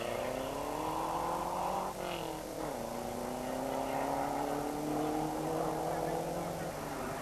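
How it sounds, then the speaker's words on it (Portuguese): A Lancia four-wheel-drive rally car labours out of a hairpin at a 1989 Portuguese rally, its engine droning steadily and rising slowly in pitch as it pulls away, with faint background noise. "O Lancia de Nix Turcan, um carro de 4 rodas motrizes e, apesar disso, com dificuldades para sair em força"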